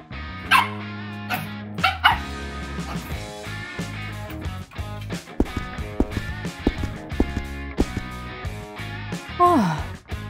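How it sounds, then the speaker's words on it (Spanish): A dog barks repeatedly in sharp, loud yips with brief whimpers between them, close by and in an irregular rhythm over about ten seconds. "¿Por qué ladras tanto?"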